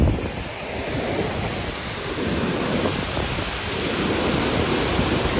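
A flooded Beas River rushes through Kullu-Manali at high volume, producing a loud, steady broadband roar of churning water with no pauses and no voices.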